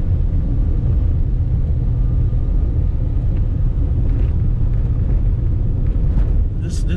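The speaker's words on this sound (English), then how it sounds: "I don't know if you can tell through the video how bad this road is, but listen." Honda CR-V driving over a rough, bumpy road: a dense, steady low rumble of road and tire noise fills the cabin, with occasional faint knocks and a short burst near the end.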